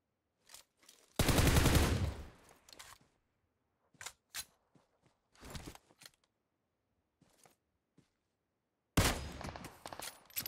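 Enemy gunfire in PUBG Mobile, with sporadic bursts and single shots; a loud sustained volley early, scattered shorter cracks in between, and another heavy burst near the end.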